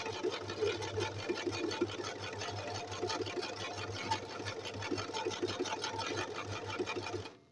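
Sewing machine stitching through paper for a scrapbooking page, a steady, fast, close mechanical whir with rhythmic needle clatter running nearly the whole time and stopping abruptly at the end.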